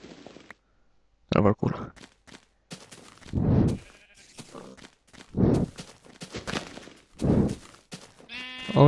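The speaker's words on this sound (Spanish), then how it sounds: "Ovejas, aunque ya tengo cama." Sheep bleating in the video game Minecraft, several short wavering bleats spread across the clip with soft blocky footsteps between them, fairly close and clear.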